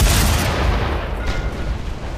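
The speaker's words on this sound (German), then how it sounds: "So, das ist kaputt, das explodiert jetzt. Boom." An explosion in the video game Mad Max: a loud burst opens with a sharp blast, then a heavy rumbling boom decays over a couple of seconds, playing alone.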